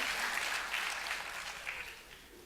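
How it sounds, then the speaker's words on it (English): Faint, steady applause from an audience at a corporate talk, a soft wash of many hands clapping at a distance for about two and a half seconds. "You need an applause for yourself."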